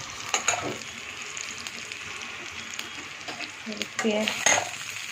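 Whole cumin, black cumin and radhuni tempering crackles and sizzles in hot oil, with scattered stirring clinks across a steady hiss and a few sharper pops near the end.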